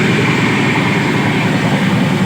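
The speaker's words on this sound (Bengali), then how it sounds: "অসাধারণ স্পিডে কিন্তু ট্রেনটি চলছে" A steady, loud rumbling roar of a fast-moving train bound for Puri, heard from onboard, continuous and close, with no voices.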